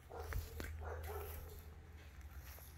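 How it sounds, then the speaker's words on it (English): Dogs indoors give a few barks and yips at moderate distance, brief and somewhat muffled over a low steady hum, with no talk. "Let's piss off the dogs."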